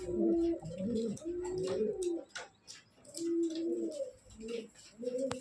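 Pigeons coo repeatedly nearby in a loft, soft throaty rolling calls in overlapping bursts with short pauses, accompanied by faint rustling and wing flutters.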